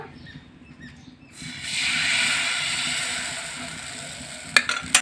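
Chitoi pitha batter poured into an oiled clay pot, bursting into a loud close sizzle after a quiet start, with sharp crackles near the end.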